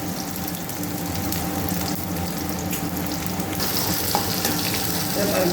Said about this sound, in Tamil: வெங்காயம் வறுபடுது.